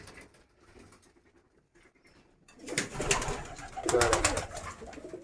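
Giribaj pigeons kept for sale coo in low, throaty bursts, quiet at first and then louder and closer, with some fluttering and shuffling among the birds.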